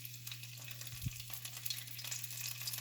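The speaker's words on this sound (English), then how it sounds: "you're going to just take it and drop it in your oil, which is I have heating to a medium-high heat" A taco dropped into oil heated to medium-high, giving a soft, steady sizzle and light crackle throughout, quiet and close, with no talking.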